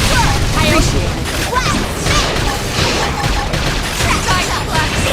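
Bursts of gunfire and crashing impacts in Xenoblade Chronicles X come fast and loud in dense succession, with voices talking over the battle.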